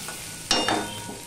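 Taro stems and onion frying in a pan, a brief crackling sizzle with a stir or scrape partway through, close and fairly loud, with no talking.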